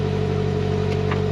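A 2020 Polaris Slingshot R engine running just after startup, a close, steady low idle rumble with a slight clatter throughout.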